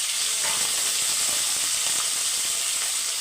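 Drumstick pieces hit hot oil in a pan already crackling with green chilies, curry leaves and shallots, giving a steady, loud close sizzle with no talking.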